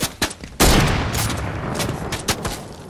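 Gunfire in the Fortnite video game: a sharp crack, then a loud sustained burst of rapid shots with scattered further bangs, close and dominant, without talk.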